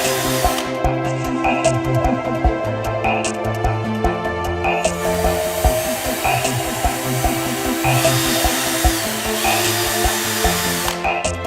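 A 2.5mm drill plunge-cutting to 10 mm depth through the plastic membrane inside a protective cover, whirring steadily close up with shifting pitch and repeated sharp bites, running continuously without speech.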